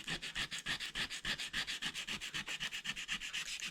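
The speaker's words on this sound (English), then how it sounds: "It's a wore out piece of sandpaper." Worn-out sandpaper rubbed by hand over a pre-WWII PAL RH-36 fighting knife during restoration, making quiet, rapid, even back-and-forth scraping strokes close up.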